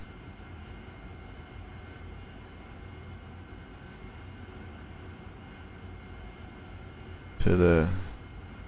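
AV-8B jet engine taxiing at Nellis Air Force Base, a steady low whine and rumble throughout, with a brief burst of radio-style speech near the end.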